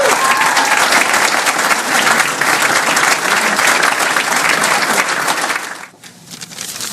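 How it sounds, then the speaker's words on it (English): Loud, sustained round of applause from a crowd at a high school athletic Hall of Fame induction ceremony, greeting an inductee, holding steady for about six seconds before dropping off sharply near the end. "Big round of applause for Jim Bidwell."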